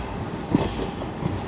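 A YDM4 diesel-hauled meter gauge train runs at Junagadh station, giving a brief low rail rumble with a couple of soft wheel clicks. No voices are heard.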